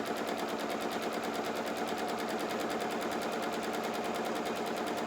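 A sewing machine runs at a fast, even rhythm while stitching a seam on a doll pinafore, a dense mechanical chatter that stays constant and close throughout.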